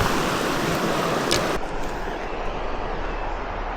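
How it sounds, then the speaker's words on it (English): Creek water rushes steadily close by at a fishing spot, a broad continuous wash that holds level throughout with no voices over it. "We're at the creek though."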